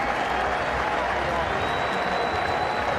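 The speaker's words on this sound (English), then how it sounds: "the crowd applauding here" A packed football stadium crowd at an NFL preseason game, Indianapolis Colts against Cincinnati Bengals, applauding in a dense, steady roar that fills the space without any break.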